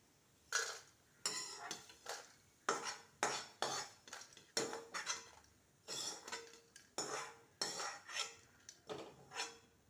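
Roasted garlic is scraped from a pan onto a plate for parupu podi, with repeated metallic scraping and clinking strokes of a spoon against cookware, close and in short rhythmic bursts.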